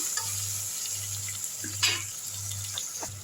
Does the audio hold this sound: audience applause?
no